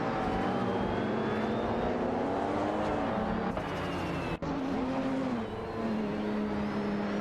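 Race cars with Ferraris and BMWs circling a track in an AI racing game, a steady engine drone with rising and falling pitch as cars pass, one brief dropout midway, continuous and moderately loud.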